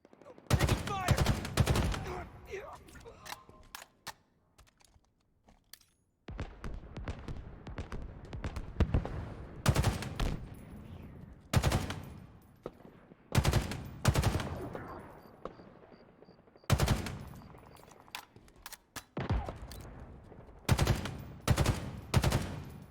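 Bursts of automatic gunfire in Halo Infinite, loud rattling volleys separated by short quiet gaps, with players talking in between.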